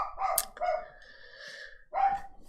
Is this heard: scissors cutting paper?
no